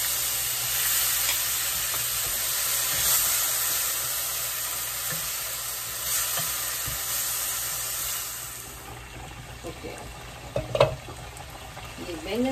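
Fennel seeds and whole coriander seeds roast in a pan with a steady sizzling hiss, a few scraping stirs and light clatter, quieter toward the end.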